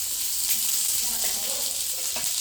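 Onion and chilli frying in oil in a pan over a wood stove, a steady close sizzle with faint stirring scrapes and no talk.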